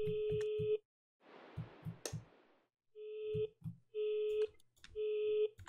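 A phone in a horror game, Veinless Property, rings in repeated electronic double-tone bursts with short gaps, close and clear, broken once by a burst of hiss and a sharp click.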